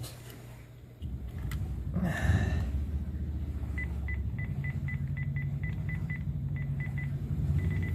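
A Panasonic KX-TGA560 cordless handset with repaired buttons gives a quick run of short, evenly spaced key beeps. The beeps are faint and sit over a noisy background with handling rustle, and no one speaks.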